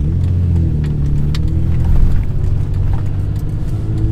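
A BMW E46 M3 engine runs hard during a logged pull in sixth-gear shift mode, a steady, loud low exhaust drone holding throughout with slight rises in pitch.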